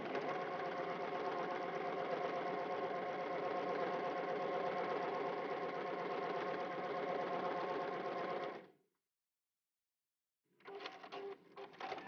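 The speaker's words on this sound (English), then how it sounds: "new sewing machines have an automatic thread trimming function" A Juki sewing machine stitches continuously for about eight seconds in a fast, even mechanical chatter, stops into silence, then starts up again briefly with irregular clicking near the end.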